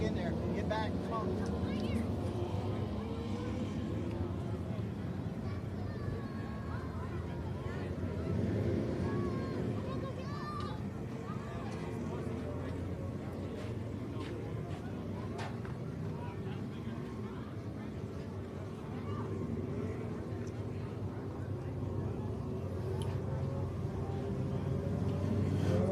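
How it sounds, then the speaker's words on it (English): Non-wing mini sprint race cars circle a dirt oval in a feature race at Hendry County, Florida: a continuous distant engine roar, fairly quiet and steady, with someone talking over it. "The Hart non-wing mini sprint race."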